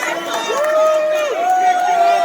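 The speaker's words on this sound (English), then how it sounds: "All right, guys, cheer them on, cheer them on." A minor league baseball crowd at a Hickory Crawdads game cheers on contestants in a hot dog and beer eating contest. Dense, steady crowd noise and shouting fills the clip, with a long sustained tonal call riding on top.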